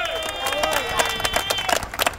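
Brief burst of audience clapping for a council member at a New Orleans press conference, many hands beating in a quick irregular patter with murmuring voices mixed in.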